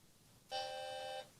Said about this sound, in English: That's our bell.